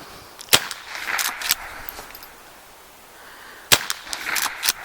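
Target shooting with a Henry .22LR rifle, a Savage 7mm Magnum and a Norinco 12 gauge shotgun: a few sharp, distant-sounding shots, two close together early and a pair later, over quiet outdoor background noise.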